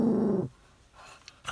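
A dog, a rescue with a gray beard, gives a short close growl at another dog from a nearby truck, then goes quiet except for faint rustles.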